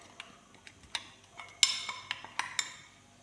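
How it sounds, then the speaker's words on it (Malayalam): A spoon clinks and taps against a pan while mixing chili powder into an eggplant fry, with irregular light metallic knocks and a couple of sharper scrapes, fairly quiet and close. "ഒരു സ്പൂണ് മുളക് പൊടിയും കൂടി ചേർക്കാം ഒന്ന് നന്നായി മിക്സ് ചെയ്യുക"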